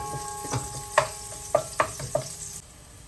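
Minced garlic sautés in two tablespoons of olive oil for a shrimp and broccoli dish, a soft steady sizzle broken by several sharp scrapes and clinks of a utensil stirring the pan.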